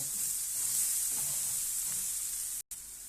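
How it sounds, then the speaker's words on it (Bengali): Turmeric-laced spice masala fries in a pan with a steady, faint sizzle while a spoon scrapes and stirs now and then, broken by a brief moment of silence near the end. "পরে মশলাটা ভালো করে আমি চামচ দিয়ে কষাই নিব।"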